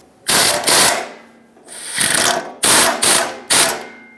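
A hand ratchet snugs 14 mm exhaust bolts on a 2012-2017 Toyota Camry during exhaust manifold and catalytic converter replacement, close and loud in four rapid clicking bursts with short pauses between them.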